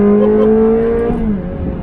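Ferrari Challenge Stradale in Carrara White revving hard up close, a steady loud engine note with strong harmonics that sags slightly in pitch, heard alone without talk.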